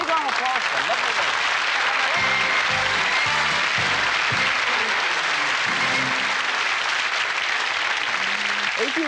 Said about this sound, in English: Big round of applause for lovely work.